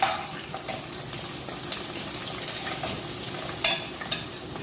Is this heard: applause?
no